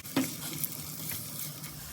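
Chopped onions sizzle steadily in about half a cup of hot oil as they are stirred for an onion and tomato gravy, with a continuous close crackle and no talking.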